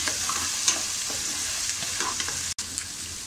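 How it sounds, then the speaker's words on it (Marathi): Tomatoes are stirred and sautéed in a pan for street-style tawa pulao, a close crackling sizzle with repeated spatula scrapes and a brief dropout near the end. "आता आपण त्यात टोमॅटो टाकूया। टोमॅटो सुद्धा 2 मिनिटं आपल्याला छान असा परतून घ्यायचा आहे"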